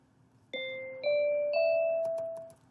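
Sonic Pi's Pretty Bells synth plays three rising bell-like notes, each ringing on and sustaining into the next, followed by a few quick soft taps, clean and alone.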